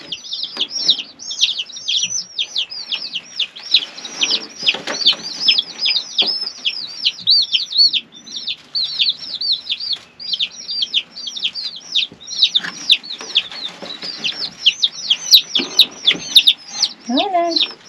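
A flock of chickens, including a rooster, calls close by in a rapid, continuous stream of high, repeated peeping chirps, with a few lower calls mixed in toward the end.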